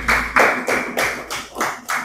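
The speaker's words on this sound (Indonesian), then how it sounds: "Tepuk tangan untuk Syakila" A classroom of students claps for a classmate in a few rhythmic bursts, about six or seven close, sharp hand claps in a short patterned sequence.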